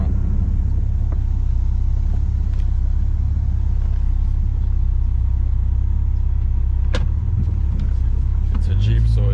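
A Jeep drives uphill off-road with a loud, steady low rumble of engine and tires, a few knocks and rattles near the end as the engine note shifts.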